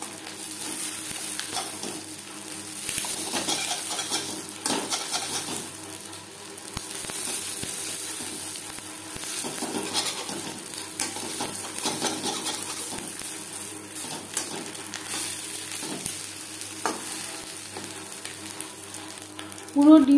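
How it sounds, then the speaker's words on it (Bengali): Boal fish roe, broken into small pieces, fries in a pan as a steady sizzle that runs throughout, with a few faint clinks of the spatula. "বেশ ভালো করে ভেজে নেব, ভেতরে যাতে কাঁচা না থাকে।"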